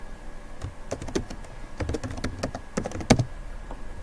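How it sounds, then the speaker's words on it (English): Keys clatter on a computer keyboard in irregular bursts of quick taps, close and moderately quiet, ending with one harder keystroke. "So let's type here"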